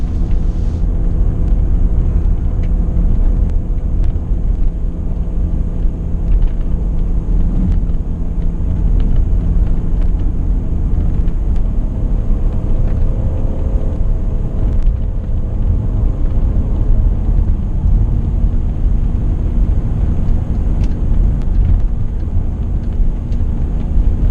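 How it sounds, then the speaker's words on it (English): Inside a 2003 BMW 520i E39 cruising, its inline-six gives a steady low drone that stays loud and even throughout, with constant road and wind noise and no talking. "RPMs on the engine, which is purring along nicely. The inline 6 up front"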